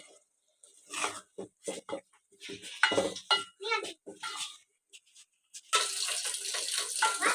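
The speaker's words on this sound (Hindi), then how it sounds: "और अब हम शलजमों को करेंगे मिक्स" Turnips, peas and fenugreek are stirred together in a pot with a spoon, making scraping and clattering strokes in short bursts. A steadier wet hiss follows near the end.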